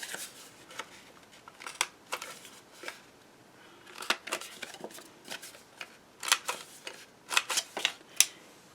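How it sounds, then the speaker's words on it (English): A 1/4 corner rounder punch cutting the corners of pattern paper for a star tag mini album, giving a series of sharp, crisp clicks and snips, some single and some in quick clusters, close and isolated with quiet gaps between. "I'm going to punch 1/4 corner rounder on my pattern paper."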